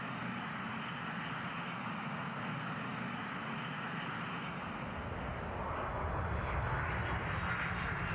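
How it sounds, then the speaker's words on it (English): Aircraft engines roaring in reverse thrust on landing in the game I Am An Air Traffic Controller 4, a steady broad roar that swells slightly toward the end, with no talk. "They reversed his engines just a little too soon."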